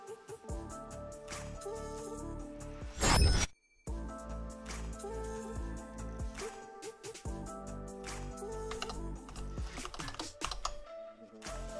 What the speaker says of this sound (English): Hopefully you guys aren't picking up too much of the keyboard clicky-clackety.